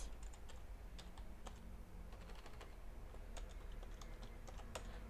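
Quick, irregular clicks from a computer keyboard as someone types code, close and fairly quiet, with bursts of keystrokes and short pauses.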